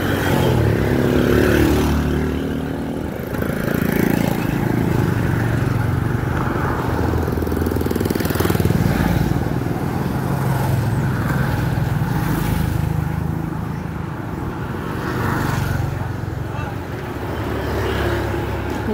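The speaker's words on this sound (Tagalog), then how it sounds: "Traffic diri kay under construction ang Taytayan" Road traffic crawls past a bridge under construction in the Philippines, with a steady rumble of car and motorcycle engines close by throughout, and voices talking over it.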